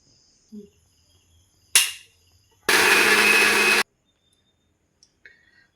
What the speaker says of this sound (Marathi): आता हे सर्व आपण मिक्सरमधून वाटून घेऊया